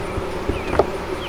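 A few bees hum in a nearly emptied hive box during a homestead honey harvest, a thin, steady, soft buzz with a couple of brief louder passes close by.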